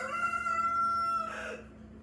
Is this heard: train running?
no